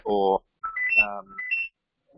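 A telephone rings in short electronic tone bursts, the first cut off by a voice, with more rising tones under and between his speech.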